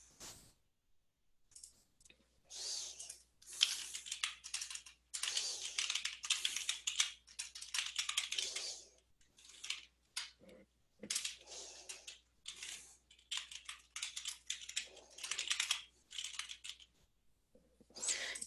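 Bursts of computer keyboard typing during a health lecture, with irregular runs of clicking keystrokes separated by short pauses, fairly near and alone against a low steady hum.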